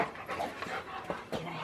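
A Rottweiler pants quickly and steadily up close, a soft rhythmic breathy huff with slight whimpers, no talking over it.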